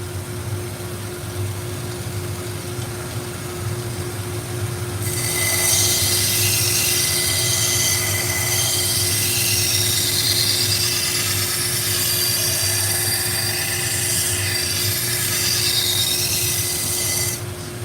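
A knife bevel is ground on a 120 grit belt sander, the belt humming steadily before the blade meets it, then a bright continuous grinding hiss for about twelve seconds, close and even.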